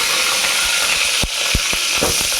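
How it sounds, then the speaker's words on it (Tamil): Onions sautéing in a pan for sambar, a steady sizzling hiss with a few soft stirring knocks, close and fairly loud, no talking. "கொஞ்சம் வதக்கிடலாம்."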